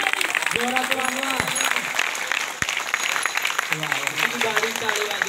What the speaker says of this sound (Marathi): टाळी टाळी जोरात वाजवा.